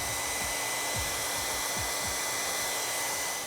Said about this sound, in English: If you use a normal hair dryer for your hair, you can actually speed up the process of the Mod Podge drying time.